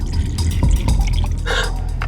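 Water poured into a glass in a restaurant, a close, continuous splashing and trickling stream running for about two seconds, with no talk over it.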